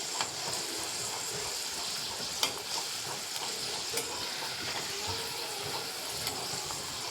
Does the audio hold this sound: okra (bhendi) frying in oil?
yes